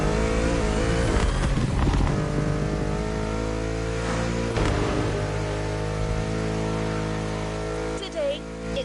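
A BMW M5 Drift Edition in the video game Motorfest revs hard, its engine roaring and rising in pitch over several pulls with a brief tire squeal, as a voice narrates over it.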